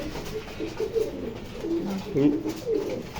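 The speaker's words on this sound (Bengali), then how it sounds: "এত সুন্দর এত ফাইন দেখার মতো একটা কবুতর" A teddy pigeon coos softly in a few short, low throaty phrases, close and fairly quiet, with faint background noise.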